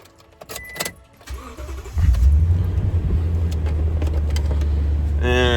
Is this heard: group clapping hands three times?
no